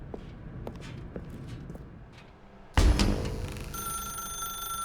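A telephone rings inside The Stanley Parable video game, a sudden loud burst after soft footsteps and shuffling, then a sustained bright ringing tone that continues to the end.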